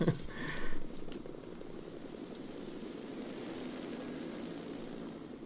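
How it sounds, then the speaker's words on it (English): Helicopter rotor and engine drone in Metal Gear Solid V: The Phantom Pain, a continuous steady whir at moderate distance after a few brief louder game sounds at the start. "Don't wave to the chopper where the bad guys are coming out of."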